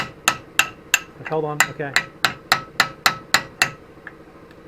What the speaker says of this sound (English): if you could just right there and tap it. Tap the chisel.